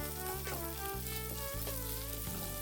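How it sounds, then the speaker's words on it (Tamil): Chopped onion and a sprig of curry leaves sauté in hot oil in a home kitchen pan, giving a steady, close hiss of frying with a few soft stirring scrapes and no talk. "இது கூட ஒரு கொத்து கருவேப்பிலை சேர்த்துக்கிட்டு வெங்காயத்தை நல்லா வதக்கிடுங்க"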